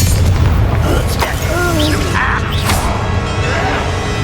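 Spell explosions from Bombarda and Confringo in Hogwarts Legacy land as dull booms and crashes under a constant roar of battle noise while voices shout through the fight.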